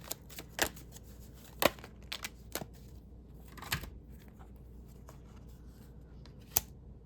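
Tarot cards being shuffled and drawn, heard as soft rustles and a few sharp card snaps scattered through otherwise quiet stretches, with no talking.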